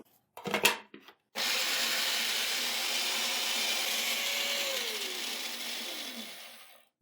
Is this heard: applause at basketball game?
no